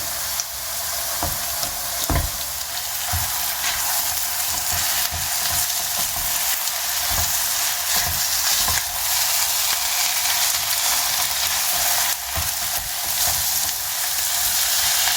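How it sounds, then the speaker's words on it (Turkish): Potatoes sautéing in oil with spices, a loud, steady bright sizzle running throughout, with frequent knocks and scrapes of a spoon stirring against the pan at an uneven pace. "Patateslerimizi de şöyle 1-2 dakika kadar soteleyelim."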